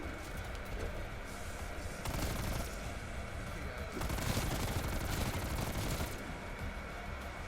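Sustained suppressing gunfire in a zombie video game, heard as continuous rapid automatic bursts with surging loudness and a few faint voices.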